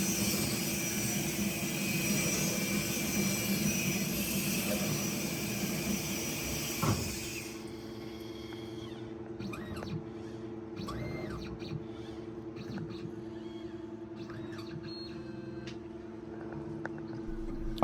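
An eyeglass lens edging machine cutting a Transitions XTRActive lens, a steady whining grind for about seven seconds that then stops, leaving a quieter mechanical hum with small clicks and knocks.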